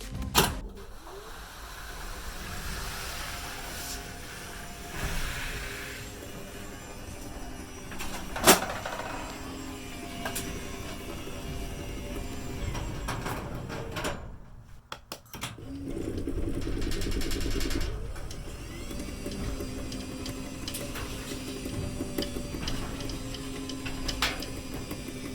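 A Genie 6170 wall-mount garage door opener running, a steady mechanical motor whir with fine ticking texture, brief louder clicks and a short drop near the middle before it carries on, no talking.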